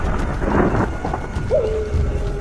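A storm roars with heavy rain and rolling thunder, dense and loud throughout, with a brief tonal whine rising near the end; no voices.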